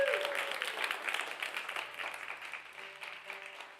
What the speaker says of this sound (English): how about one more round of applause for Abby Posner, the first half of the show here today